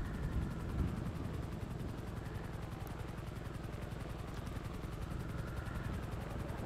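A helicopter in GTA 5 roleplay hovers overhead near water, its rotor producing a steady rhythmic chopping drone throughout, moderately loud and continuous with no talking.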